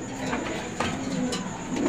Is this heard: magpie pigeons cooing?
yes